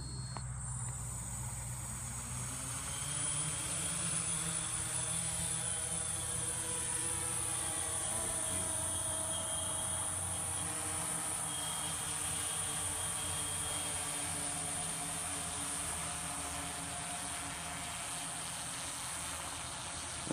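Motors of a DJI S1000+ octocopter with a 3DR Pixhawk controller whir in a steady, rising buzzing drone that holds evenly throughout, moderately near.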